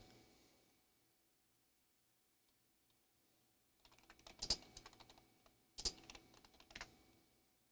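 Typing on a computer keyboard during fiber network hardware testing, quiet at first, then bursts of key clicks with two sharp louder strikes, fairly close.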